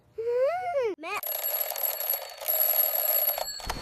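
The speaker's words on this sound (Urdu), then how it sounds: "میں الارم بھی لگاؤں گا" Alarm clock ringing in a kids' cartoon: a short rising warble opens it, then a loud, continuous bright metallic bell ring carries on steadily for about three seconds.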